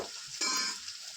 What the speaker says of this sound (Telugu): ధనియాల పొడి వేసుకొని బాగా కలుపుకుందామండి